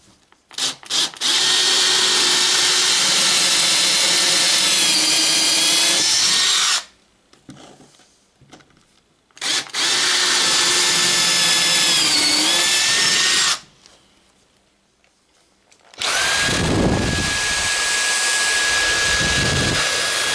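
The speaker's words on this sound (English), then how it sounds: "wood drill bit." A power drill with a quarter-inch wood bit whines loudly in two long bursts of several seconds each, separated by quiet pauses, then starts up again near the end.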